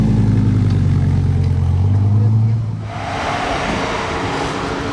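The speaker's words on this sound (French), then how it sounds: "il fait du bruit hein, avec le polyéchappement sur le côté." A supercar with side-mounted exhaust roars loudly nearby, its deep engine note swelling before it passes and gives way to a broad rushing hiss.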